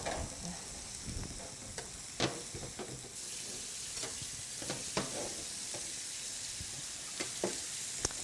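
Utensil stirring pesto through zucchini and chicken in a hot pan, soft scraping and clicks over a faint continuous sizzle, fairly quiet and close.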